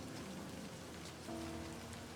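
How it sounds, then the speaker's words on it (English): Steady, faint rain patters softly on surfaces in the video game Livber: Smoke and Mirrors, an even hiss with a low tone entering partway through and no talk. "waiting in the rain"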